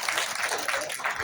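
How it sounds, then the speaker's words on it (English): Audience applause at a public health lecture in Sri Lanka, steady dense clapping throughout a short stretch, moderately loud and without pauses. "Ladies and gentlemen, a round of applause."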